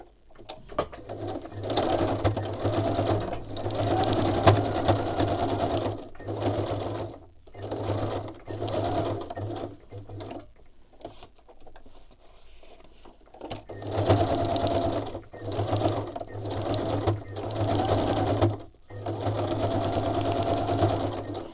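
A sewing machine running a double stitch hums steadily in repeated runs of a few seconds each, separated by brief pauses and one longer quiet stop, close and clear with no talking.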